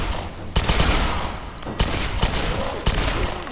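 Bursts of rapid automatic gunfire in the video game Tomb Raider, loud and close, arriving in several volleys with brief gaps between them and no talk over them.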